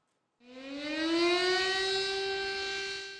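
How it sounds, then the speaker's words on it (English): An air raid siren sounds across the city of Nanjing on a memorial day. A single long, steady wail rises slightly in pitch and holds, heard from a distance with no voices over it. "Air raid alerts were sounded throughout the city of Nanjing."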